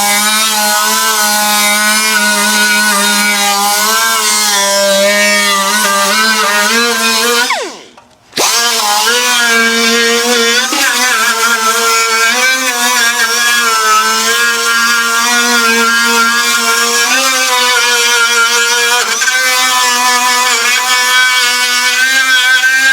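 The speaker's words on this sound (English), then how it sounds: "Now I'll show you what it's like to use the wire." A wire wheel brush spins against a car's inner fender, scrubbing off tar and grime in a loud, steady whine that cuts out briefly midway, then resumes with its pitch wavering under load.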